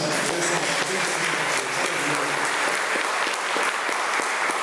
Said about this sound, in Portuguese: Eu queria que você aplaudisse o Senhor por isso.